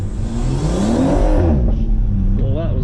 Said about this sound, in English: I'm going to try and launch the bloody thing if it actually decides to launch this time.